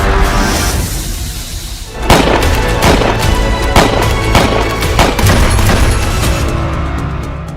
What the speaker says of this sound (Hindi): हमलावर ट्रंप से सिर्फ 20 से 50 मीटर की दूरी पर गोलियां चला रहा था